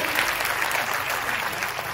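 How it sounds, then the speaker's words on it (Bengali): A seated audience at a training seminar breaks into sustained applause, a dense, even wash of many hands clapping for about two seconds. "ওনার জন্য হাততালি হয়ে যায়"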